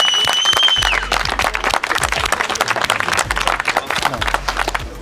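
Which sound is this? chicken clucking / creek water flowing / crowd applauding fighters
crowd applauding fighters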